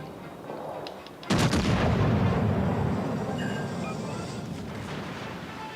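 Warship turret guns fire in World of Warships: Legends, a sudden heavy booming salvo that bursts out loud and rumbles on as it slowly fades.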